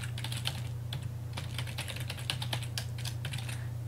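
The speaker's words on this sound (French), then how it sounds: "Si l'adresse n'est pas dans votre liste de contacts, eh bien, vous allez la taper manuellement." Email address typed on a computer keyboard in Windows 8 Mail, a brisk close run of key clicks in uneven bursts over a low background hum.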